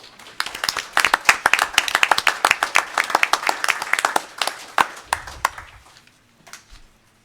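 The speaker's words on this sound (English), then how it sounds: "I think he deserves a round of applause" A small group at a county commissioners' meeting claps, starting briskly with distinct individual hand claps, then thinning and fading out toward the end.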